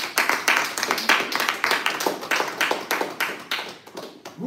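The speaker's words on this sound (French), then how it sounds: "applaudissons pour Jésus" A church congregation claps together during a Sunday worship service, a dense, steady run of many hands applauding at close range, loud and sustained with no speech over it.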